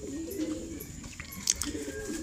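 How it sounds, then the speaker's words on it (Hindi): Pigeons, a Kalsara type and a red Kashidum, cooing softly in low, rolling murmurs near the listener, with faint chirps and background noise around them. "एक इसमें कलसरे टाइप का कबूतर है और एक पूरा लाल काशीदुम का कबूतर है।"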